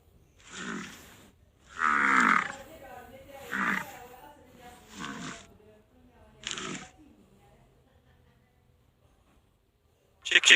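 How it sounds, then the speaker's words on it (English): Bison grunting and lowing in a series of five deep, rough bursts with pauses between, moderately loud and close, followed by the start of another call at the end. "Bison."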